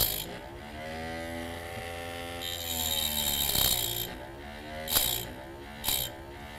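A ring grinder works on a piston ring for a stock 2010 Harley Davidson FLTRX with S&S upgrades, giving a whirring, rising mechanical tone with grinding bursts and a few sharp scraping surges.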